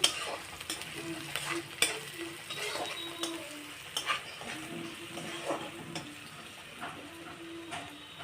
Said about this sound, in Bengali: জিরে গুঁড়ো দিচ্ছি গুঁড়ো হাফ চামচ, দিয়ে আমি ভালো করে নেড়ে নিচ্ছি